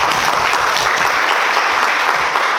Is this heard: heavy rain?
no